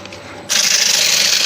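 Sandpaper rubs across a wet woodturning coated with sanding sealer, a sudden loud hissing scrub that starts after a half-second of quieter rubbing and continues steadily.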